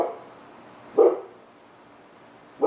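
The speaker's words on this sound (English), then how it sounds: "Dog." A dog gives a single short bark, moderately loud and fairly close, with a second bark just starting at the very end; otherwise the surroundings are quiet.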